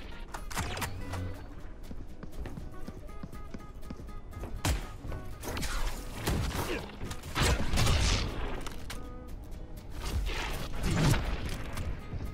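Opponent gunfire in Valorant crackles in bursts of sharp cracks amid clattering game effects and movement, irregular and fairly close, with no talk.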